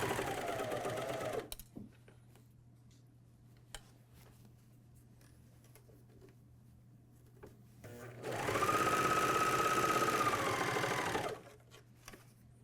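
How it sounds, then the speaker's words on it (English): A MyLock 454D serger sewing the sleeve of a pajama top, running first for a short burst and then for about three seconds as a fast, steady, close mechanical whir, with a quiet hum and small clicks in between. "I'm ready to start sewing my second sleeve"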